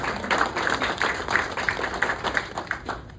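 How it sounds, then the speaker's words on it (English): Applause from a club audience for two invited guests, a steady patter of clapping at moderate volume that runs throughout, with a faint voice briefly audible. "give them a round of applause"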